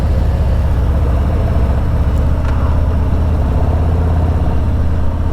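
A motorcycle fitted with a Stage II kit and Tab performance mufflers with zombie baffles rolls on from second gear, its engine a loud, continuous deep drone that holds steady throughout.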